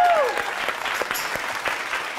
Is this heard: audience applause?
yes